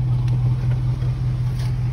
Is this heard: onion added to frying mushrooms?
no